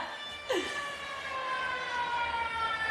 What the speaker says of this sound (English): It's a siren.